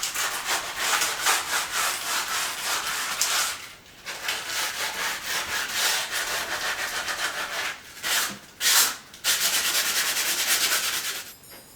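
Wood trim is rubbed by hand with sandpaper in steady, rapid scratchy strokes, close and loud, with brief pauses between passes.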